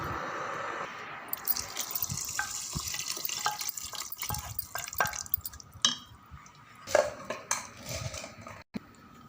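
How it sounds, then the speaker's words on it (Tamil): Water is poured and splashed into a metal pot for vegetable biryani, with drips, clinks of vessels and utensils, and a tumbler of water tipped in, faint and close in a home kitchen. "இன்னும் 1 டம்ளர் தண்ணி இதில் சேர்த்து வேஸ்ட் ஆக வேண்டாம்"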